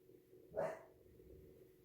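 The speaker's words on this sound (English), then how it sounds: "Julio, stop barking" A single short dog bark rings out close by, loud against a quiet room, then fades into low background hum.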